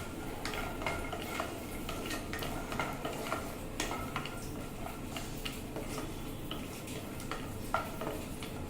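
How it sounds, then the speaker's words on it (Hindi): Cashews and almonds roast in a spoonful of ghee for Kashmiri pulao, a quiet steady sizzle broken by frequent light clicks and scrapes of a spoon stirring them around the pan. "कश्मीरी पुलाव बनाने के लिए पहले ड्राई फ्रूट फ्राई कर ले रहे हैं।"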